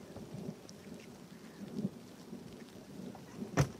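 Thunder rolls through a rainstorm in Toholampi, Finland, with faint low rumbles rising and fading over a steady patter of rain, and a sharper knock near the end.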